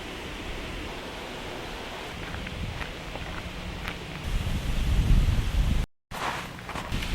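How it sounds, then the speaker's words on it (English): Steady wind roars against the microphone on a walk near a river, rumbling and gusting louder toward the end, with a brief dropout near the finish. "It is so windy."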